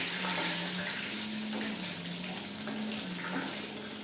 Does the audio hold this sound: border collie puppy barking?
no